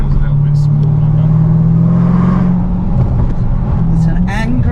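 A Range Rover Sport SVR fitted with a QuickSilver exhaust system holds a loud, steady low drone that rises slightly in pitch near the end, heard from close inside or beside the car while people talk over it.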